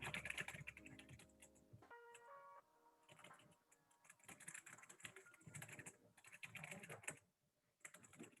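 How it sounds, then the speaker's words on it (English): Fast typing on a computer keyboard while editing presentation slides, bursts of close, crisp key clicks with short pauses, alone in a quiet room. "so I finished typing slide number 5"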